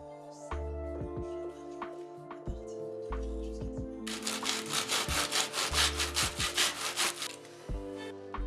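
Hand sawing through wood for specific cuts in a cellar alcove during a home renovation, with repeated back-and-forth strokes that grow louder and faster near the middle, heard close up with no talking.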